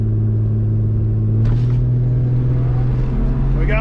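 VL Commodore RB30 with a stock engine, stalled up in drive at the drag strip start line, holding a loud, steady low droning rumble with a brief higher burst partway through.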